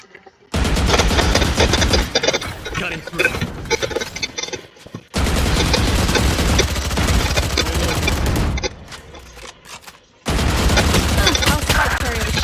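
Gunfire in the video game Valorant, loud sustained bursts of rapid automatic shots in three long stretches split by brief silences, close and dense.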